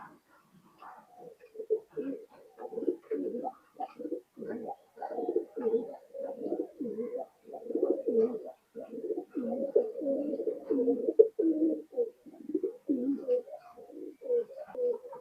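Several ringed high-flying pigeons coo in repeated soft, throaty phrases inside a loft, close by and overlapping in a steady rhythm.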